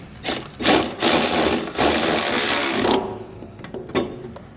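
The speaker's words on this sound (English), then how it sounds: "I'm going to come back with a 19mm socket and I'll snug it down." Short bursts of loud ratcheting or power-driver whir as a 19mm socket snugs down a nerf bar mounting bolt on a 2020 GMC Sierra, the run lasting a few seconds before brief clanks and tool handling.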